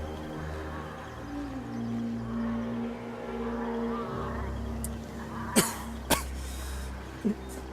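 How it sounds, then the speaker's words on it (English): A person coughs while playing the strategy game Total War: Mortal Empires, three short, sharp coughs near the end, over low game music and a steady hum. "I had a bit of a cough."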